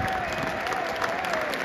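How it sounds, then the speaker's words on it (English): Football stadium crowd at a Hull City versus West Brom match applauding a substituted player leaving the pitch, a steady roar of clapping and cheering throughout with a faint whistle-like tone running beneath. "Ozan Tufan will come off to a standing ovation."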